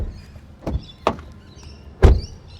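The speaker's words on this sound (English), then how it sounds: "Just door close sound first," Door of a 2025 MG S5 EV electric car shuts with a firm, close thunk near the end, after a couple of lighter knocks and clicks, with no talk over it.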